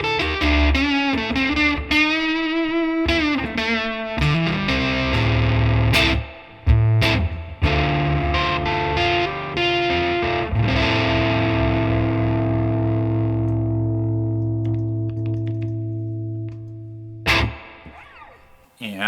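An electric guitar runs through a Fender Deluxe Reverb amp with pedals and a volume pedal, at practice volume, with distorted notes and chords ringing out and sustaining into a long fading final chord.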